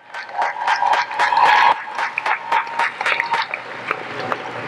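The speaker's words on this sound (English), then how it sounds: "Let's give Ms. Jacobs and the UDC Corral another round of applause." A commencement audience applauds a choral group and its leader, a dense wash of clapping that swells briefly, then thins into scattered claps that fade over a few seconds.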